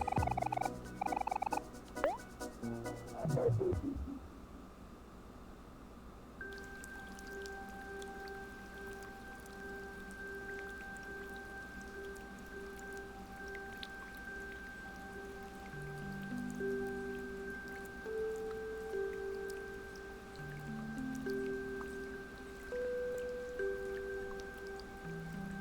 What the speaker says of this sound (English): I am slightly bothered by the amount of rain.